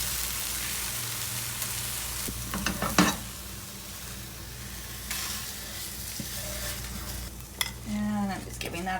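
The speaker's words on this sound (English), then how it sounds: "And I'm just giving that a stir." Tomatoes and basil stirred in a frying pan, with a steady close sizzle under scraping and clinks of the utensil against the pan, and a few louder knocks.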